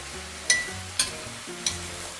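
Sausage meat browning in a pan for sausage and pappardelle noodles, a steady low sizzle with three sharp utensil clinks or scrapes spaced about half a second apart.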